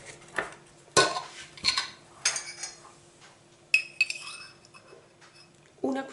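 A teaspoon clinks against a jar or dish while rosehip oil is added to a homemade moisturizing cream, several sharp, bright taps spaced out over quiet background.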